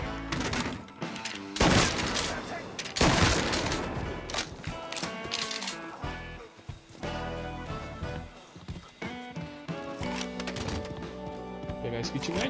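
Rapid bursts of gunfire from Mafia 3 Definitive Edition, loud and dense at first and then thinning into scattered shots, with game sounds and a person talking over the action.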